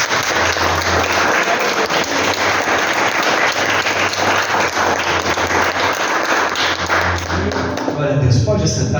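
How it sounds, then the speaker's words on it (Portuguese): A missionary-service congregation in church gives a long round of applause, thick clapping mixed with taps and thumps, then the clapping thins near the end as a voice begins speaking. "Uma salva de palmas para Jesus"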